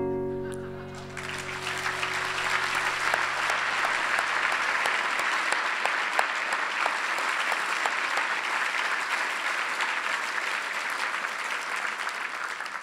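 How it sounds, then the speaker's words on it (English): Audience applause at a breakfast event, swelling in after a short moment of music and holding as a loud, dense, sustained clapping from a large crowd. "I appreciate the round of applause for them because that took some bravery"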